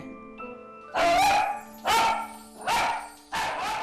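A pet dog barks four times in a row, loud and close, each bark a sharp burst separated by brief pauses in an indoor home setting.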